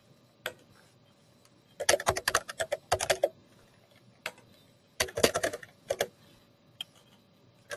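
Fingers tap on a computer keyboard in quick irregular bursts of keystrokes separated by short pauses, close and clear in a quiet room, with no talk.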